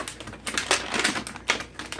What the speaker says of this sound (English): I like to take my bag and just fold it over.